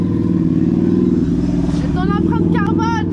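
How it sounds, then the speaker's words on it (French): A motorcycle passes close by, its engine a steady, loud mid-range drone that holds throughout, with brief rising high whines near the end. "il y a mon copain qui passe avec la moto"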